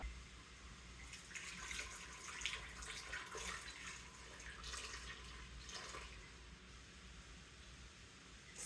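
Warm water running from a tap and pouring into a mixing bowl for bread dough, a steady close splashing stream with brief surges and gurgles, no voices.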